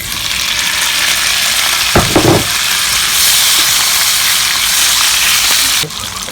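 Tomatoes and pork tongue hitting a hot pan for pork lengua estofado, a loud, steady sizzle and hiss of frying with brief stirring clatter partway through, continuing until it drops slightly at the end.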